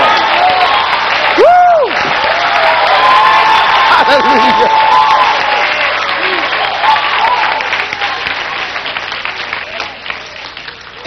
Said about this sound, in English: Come on, clap your hands, somebody.